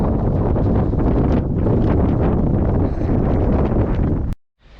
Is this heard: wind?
yes